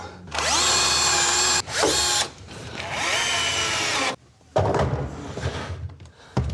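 A power drill whirs loudly up close in several bursts, revving and bogging as it bites into wood, with short pauses and some clatter between runs.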